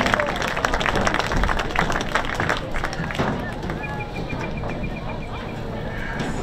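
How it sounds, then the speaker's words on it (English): A crowd at a girls' lacrosse all-star game and season awards event gives a round of applause, dense clapping mixed with cheering that fills the space and slowly fades, with a tone sounding faintly near the end. "Let's give a big round of applause for their hospitality and support in putting tonight's game on."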